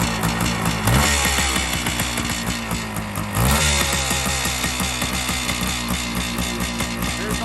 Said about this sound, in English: This bike starts first kick.